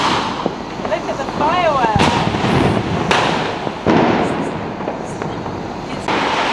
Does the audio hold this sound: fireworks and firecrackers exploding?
yes